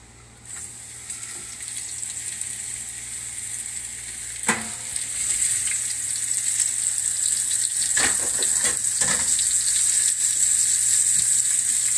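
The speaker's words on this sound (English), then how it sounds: "Now we're going to go with a little bit of good extra virgin olive oil. Just a touch. Let's get our mushrooms in." Mushrooms sizzle in a pan of extra virgin olive oil, a steady loud frying hiss that swells as they land, with a few sharp spatters and utensil taps up close and no voices.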